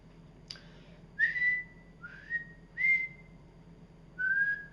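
A person recovering from Bell's palsy attempts to whistle, producing four short, steady whistled notes with brief gaps, preceded by a faint puff of breath, close and alone.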